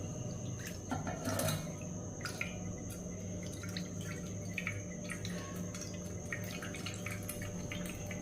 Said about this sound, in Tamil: எண்ணெய் பூரா நம்ம ஊற்றியாச்சு.